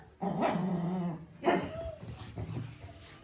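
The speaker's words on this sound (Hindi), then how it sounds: "शीरो और लैला की कुत्ते वाली लड़ाई है।" Two dogs scuffle in a playful fight at home, with a burst of growls and barks followed by whimpers and yips, close and fairly loud, no talking.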